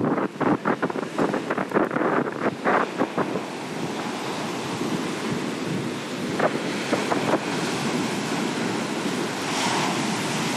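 Atlantic Ocean surf breaking on a beach, a steady loud wash of waves with heavy wind buffeting the microphone and a few rougher bursts early on, no voices.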